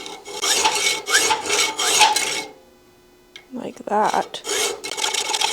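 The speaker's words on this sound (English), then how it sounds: "So good old hacksaws." A hand hacksaw cuts through a steel bolt, with steady rasping back-and-forth strokes close up, a short pause, then more strokes while someone speaks briefly.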